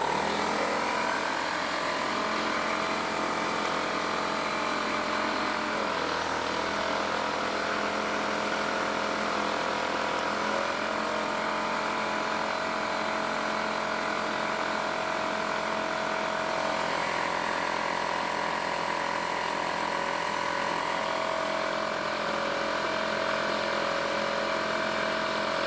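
Portable power station driving an air compressor for home and RV use, a steady loud mechanical hum and whir running continuously and evenly throughout, close by, with no speech.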